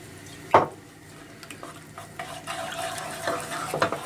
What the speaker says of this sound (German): Und wieder schön glatt rühren.